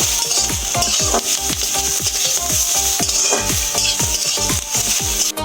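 Spices and grated coconut sizzle and fry in a pan for sambar while a utensil stirs and scrapes repeatedly in a steady rhythm, close and busy.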